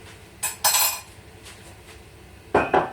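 Spoon knocking and scraping against a pot while Marmite is stirred into a vegetable stew with Quorn fillets, potatoes, mushrooms and pepper: two short clinking bursts early, a quiet pause, then two more near the end, close and fairly loud.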